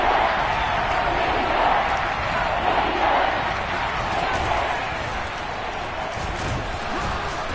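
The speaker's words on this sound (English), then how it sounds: "the crowd getting into it as we come up on a big third down" Steady, dense roar of a football stadium crowd cheering throughout a Seahawks versus 49ers NFL game ahead of a big third down, loud and sustained with no break.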